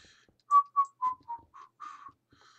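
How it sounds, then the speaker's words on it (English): A person whistles a short tune in the game The Longest Journey, six or seven clear melodic notes in a bouncy rhythm, close and alone with no talking. "A whistle while you work"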